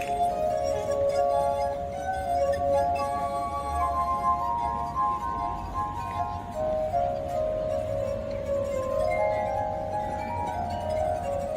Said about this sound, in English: This is the sound of water glasses.